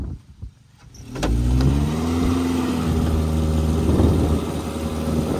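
Toyota Yaris engine revving hard before a jump, a loud near roar that climbs after a quiet start and holds high, with its pitch rising and falling.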